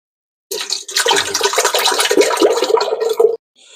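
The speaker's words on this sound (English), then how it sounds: "And then I'm going to add my beef stock." Beef stock pours into a cooking pot in one continuous close, loud splashing rush lasting about three seconds, starting abruptly and cutting off sharply, followed by a brief faint trickle.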